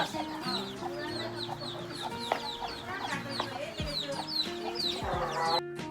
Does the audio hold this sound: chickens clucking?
yes